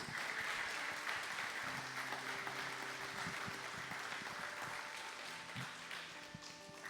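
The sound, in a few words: church congregation applauding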